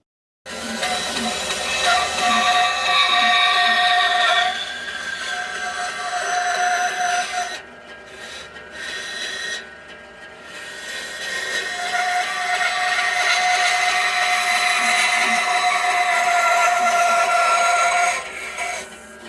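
Bandsaw fitted with a wide resaw blade cutting a wooden pumpkin shape, a loud, steady whine and rushing hiss with brief pauses as the cut stops and resumes, close and alone.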